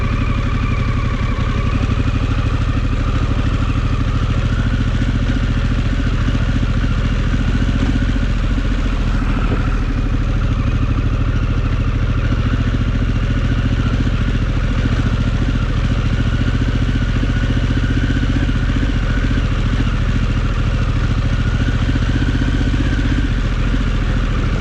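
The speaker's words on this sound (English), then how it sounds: "This bike idles in first pretty good." An adventure motorcycle idles along in first gear at low speed, its steady, loud engine rumble running continuously from start to finish with a light mechanical clatter on top.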